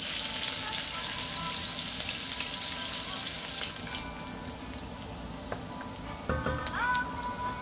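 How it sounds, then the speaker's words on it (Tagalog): Sliced ginger sautéing in a pan for chicken curry, with a continuous hiss of frying oil and occasional light clicks and taps. "Una igisa ang luya na hiniwang paaba."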